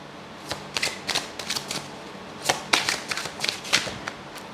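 Oracle cards riffled and shuffled by hand at close range, a series of crisp papery bursts in quick irregular clusters with short pauses between, no voice over them.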